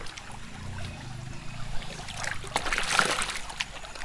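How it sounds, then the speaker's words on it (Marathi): Water pouring down from above into a pool where people swim near a village home in the Konkan, a steady splashing trickle that swells louder toward the middle, with no talk over it. "बरं वाटलं वरून असं पाणी असं येतं खाली"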